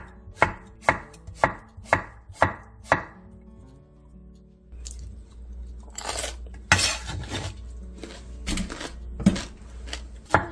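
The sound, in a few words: knife slicing cucumber into thin diagonal strips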